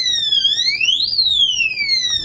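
A loud electronic alarm from a TIGERKING digital security safe sweeps up and down in pitch continuously, a siren-like whoop with no talking.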